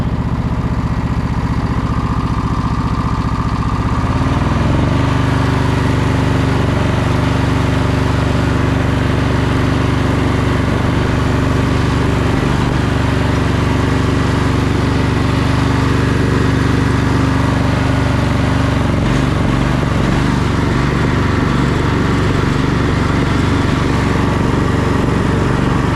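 A tractor engine idles steadily off choke, a low continuous mechanical drone with a slight shift in tone partway through, running close and alone without talk.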